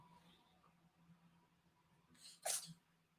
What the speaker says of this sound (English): That was a ferret sneezing